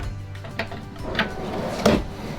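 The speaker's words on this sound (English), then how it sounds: "Sliding drawers. Every RV should have sliding drawers." Sliding drawers in an Airstream Atlas RV opening and closing, three short separate knocks and slides spaced about half a second apart, moderately loud with a quiet background.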